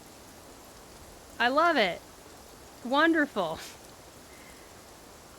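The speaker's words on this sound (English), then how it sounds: "That's the sound of rain." Steady soft rain hisses throughout a scene in the video game Infinity Nikki, with a voice speaking briefly twice over the constant patter.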